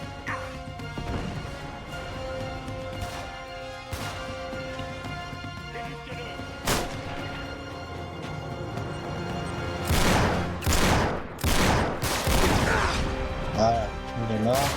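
Gunfire and crashing blasts from the video game Uncharted 3 Remastered burst in clustered volleys, heaviest toward the end, mixed with game music and a player talking over the action.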